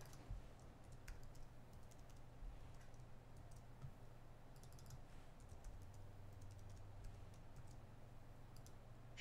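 Fingers tap out a password on a computer keyboard in irregular bursts of soft clicks, quiet and close, over a low background hum with no talking.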